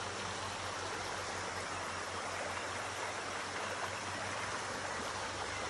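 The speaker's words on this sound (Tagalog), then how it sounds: "So andito tayo sa may medyo sapa na. Dito. Andito yung sapa." A creek by a holiday home on Lebons Bay Road flows in a steady, continuous wash of water, close and fairly loud, with no voices over it.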